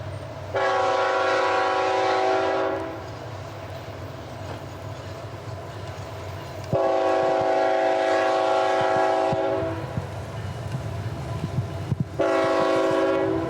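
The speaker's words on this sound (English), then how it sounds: "the train rounds the curve" A freight train rounds a curve during a rain downpour near Postville, sounding long horn blasts in a repeated pattern over a steady rumble of rolling cars and rain. The train is loud and fairly close.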